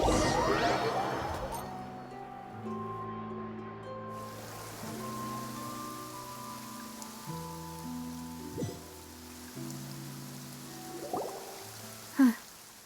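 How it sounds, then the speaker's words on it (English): Steady rain hiss falls in a video game scene beneath a slow, sustained musical score, with a few soft thuds and a sharper knock near the end. "It's been raining non-stop for a few days now."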